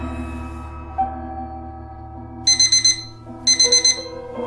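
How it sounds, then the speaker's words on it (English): Alarm clock ringing in the video game Lullaby for an Electric Toaster: two bursts of rapid, bright electronic beeping, each about a second long, over a steady droning game soundtrack. "Oh no, that's the alarm clock."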